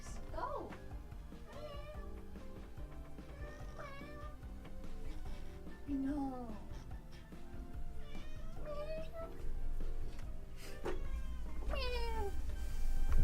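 Cat meows repeatedly at irregular intervals, several drawn-out, creaking-sounding calls heard faintly over background music while someone talks throughout.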